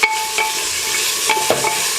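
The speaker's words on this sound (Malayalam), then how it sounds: "ഇതിലേക്ക് കുറച്ച് ചെറുതായി അരിഞ്ഞു വെച്ച സവാള എന്നിട്ടൊന്ന് വഴട്ടുക." Finely chopped onions sauté in hot oil with cardamom for homemade mandi, giving a steady close sizzle broken by a few scraping stirs.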